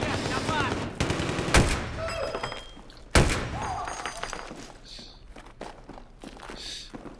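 Machine gun fire in the shooter game Battlefield 3: heavy bursts and single loud cracks over rumbling combat noise, with footsteps and thuds mixed in.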